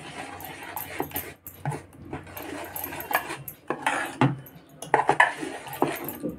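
A spoon mixing coriander dosa batter with salt in a bowl, irregular clinks and scrapes against the bowl's sides in uneven bursts, fairly close, with brief quieter pauses between strokes.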